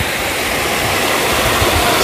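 A waterfall pours into a flowing stream along a river bathing spot lined with moss, a loud, steady rushing roar filling the whole stretch with no break.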